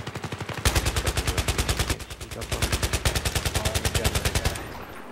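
Rapid automatic gunfire from the Battlefield 3 video game, a near, loud rhythmic stream of shots that runs almost continuously, with a brief pause near the start and another midway, before it stops.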